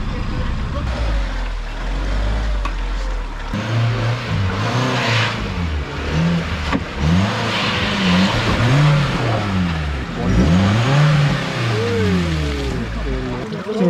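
A 4x4 vehicle on a rough offroad track, its engine repeatedly revving up and dropping back in loud, close surges while people talk over it.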